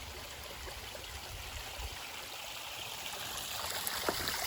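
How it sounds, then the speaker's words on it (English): A waterfall produces a steady, broad rush of water that grows slightly louder toward the end, with no talk over it. "You could see the waterfall."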